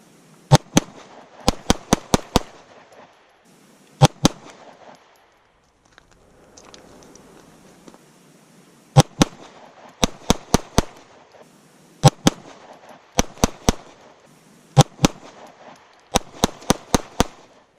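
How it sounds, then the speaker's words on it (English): Handgun shots at outdoor target practice, fired in repeated quick strings of two to five sharp, loud cracks separated by short pauses. "it's going to be 2 shots on target and create some distance and follow up by actually getting a good grip on the gun with some follow-up shots"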